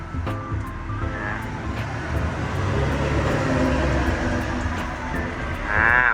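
Hydraulic pump of a Hitachi ZW220-5B wheel loader working as the lifting arm rises, a steady low engine and hydraulic drone that swells near the end, with a faint whine over the continuous rumble.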